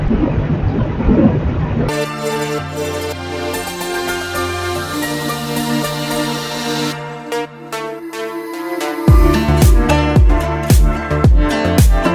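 A loud, sustained vehicle horn blares in a melodic tone that changes pitch, followed by a rapid series of sharp repeated honks.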